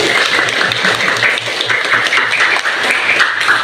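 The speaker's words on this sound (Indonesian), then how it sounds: "tepuk tangan dulu" A school class claps together at the teacher's prompt, loud, busy hand-clapping filling the room steadily from start to finish.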